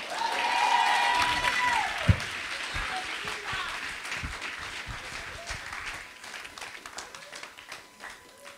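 A church congregation applauds during a French-language sermon, a dense round of clapping and cheering that swells early, then thins and fades into scattered claps.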